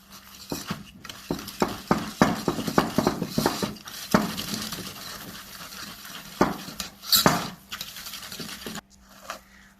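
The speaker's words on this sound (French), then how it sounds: "j'ai bien mélangé ma pâte" Orange cake batter made with butter and baking powder is beaten in a bowl, a run of quick, close scraping strokes and utensil knocks that rise and fall, then stop abruptly near the end, with no talking.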